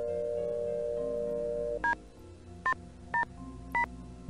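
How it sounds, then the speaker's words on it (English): Telephone keypad dialing in the Nancy Drew video game: a steady dial tone gives way to four separate short touch-tone beeps at an even pace, clear and close with no voices. "So why don't we just go ahead and call Ned?"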